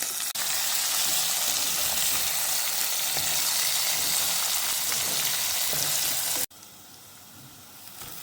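Chopped onion and green chili sizzle loudly in a pan of oil with curry leaves and asafoetida, a dense, even hiss with faint stirring ticks that suddenly drops to a much quieter simmer near the end.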